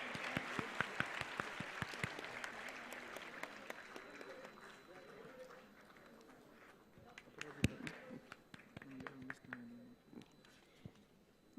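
A room of people applauds at a university convocation ceremony, the clapping rising and thinning over several seconds while a voice speaks over it.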